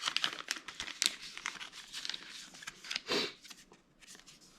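A paper wiring diagram card for a drone's ESCs and flight controller is handled up close, giving quiet irregular crinkles, rustles and flicks with brief louder crackles, no talk.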